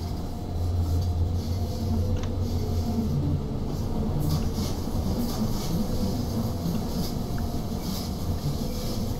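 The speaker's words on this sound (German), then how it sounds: "Hier, der Zug, der hört sich an wie Straßenbahn mit Dauerradschlupf" A RhB ABe 8/12 Allegra electric train runs steadily in Train Simulator 2018, giving a continuous low rumble and wheel noise with a faint high whine and occasional squeal, close and even throughout.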